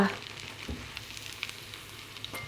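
Potato pancakes (deruny) frying in oil in a pan, a soft continuous sizzle with scattered small crackles and pops, close by and fairly quiet, with one brief clink near the start.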